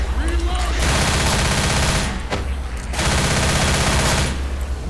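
Automatic weapon fire in the zombie shooter Left 4 Dead, two long, loud sustained bursts of rapid shots separated by a brief pause, with players' voices in the background.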